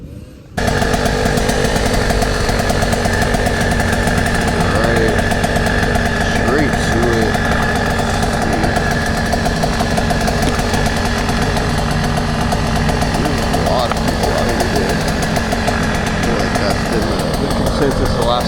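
A KTM 125SX two-stroke dirt bike engine runs loud and close throughout, a steady high-pitched buzzing drone with a raspy edge after a brief quiet start, holding fairly even revs with no clear voices over it.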